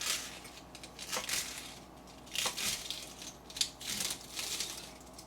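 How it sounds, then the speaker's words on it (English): A knife chops through romaine lettuce leaves into strips, giving a run of crisp, crunchy cuts at an uneven pace, close and fairly quiet, with soft rustling of leaves between strokes. "Cut up a big bunch of them up here into strips."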